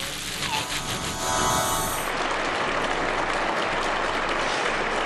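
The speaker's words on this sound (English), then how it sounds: "The applause here in Beijing for the return to the arena of the world #1, Ronnie O'Sullivan" Audience applause in an arena in Beijing as world number one Ronnie O'Sullivan returns for a 2006 snooker match against James Wattana: broad, sustained clapping from a large crowd, continuous and fairly distant, with no talk over it.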